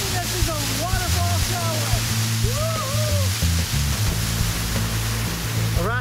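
A waterfall on St Vincent rushes as a steady, broad wash of falling water, close and loud, while birds chirp over it and faint voices are heard nearby.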